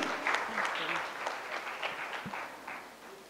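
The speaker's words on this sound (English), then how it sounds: "One round of applause again, please." Audience applause at a FICCI Frames panel for actress Richa Chadha. The clapping is short and moderate, mixed with some crowd noise and voices, and fades toward the end.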